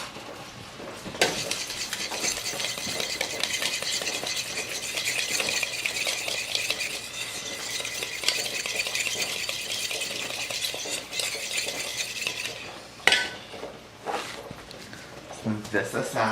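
Deviled egg filling seasoned with salt and pepper being stirred in a bowl, a steady scraping, swishing mix that runs continuously and close, then eases off into a few clinks near the end.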